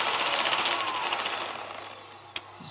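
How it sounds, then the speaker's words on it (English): Electric whisk beating room-temperature egg whites toward a soft peak, a steady close high-pitched whirring buzz that runs continuously and eases slightly, ending with a sharp knock. "While that's on whisking, I can whisk my egg whites until they're lovely and soft"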